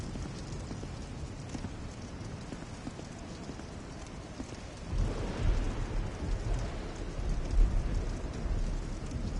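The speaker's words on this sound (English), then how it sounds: "The thunder around here sounds scary." Thunder in a video game: a low, rolling rumble swells halfway through over a constant rain-like wash, heavy and continuous with no voices.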